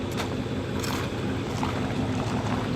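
A 1971 El Camino engine, revived after 24 years of sitting, idles as a steady, dense low rumble with constant loudness and a rough, noisy texture throughout.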